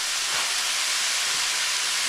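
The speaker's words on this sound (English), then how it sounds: "Now I'll work on browning up that meat" Ground beef and onions sizzle steadily as they brown together in a pan, a loud, continuous hissing crackle close up with no talking.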